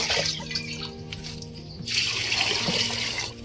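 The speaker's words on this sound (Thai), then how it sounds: "ตักน้ำหมักใช้งาน" Fermented fish fertilizer liquid being scooped and poured, a close steady splashing and trickling of water with brief pauses, fairly loud.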